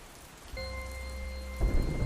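Heavy rain pours steadily during a thunderstorm, with a low rumble of thunder swelling near the end under a constant wash of rainfall; a faint electronic tone hums alongside.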